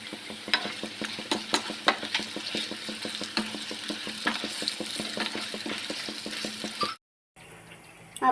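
Mutton frying with browned onions in a pot for Afghani kabuli pulao, continuous close sizzling with rhythmic stirring scrapes, briefly cut off before resuming.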